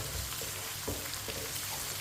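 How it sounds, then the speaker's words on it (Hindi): Crushed garlic and ginger frying in a pan for Punjabi sarson ka saag: a dense, even sizzle with faint stirring taps, close and continuous, no voices. "1 चम्मच कुटा हुआ लहसुन, 1 चम्मच कुटा हुआ अदरक, 2 मिनट के लिए दोनों चीज़ों को पका लेंगे।"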